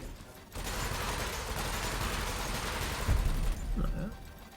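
Ship guns open fire in the video game Elite, a dense continuous burst of rapid shots lasting several seconds, loud and close, with a heavier thump near the end before fading.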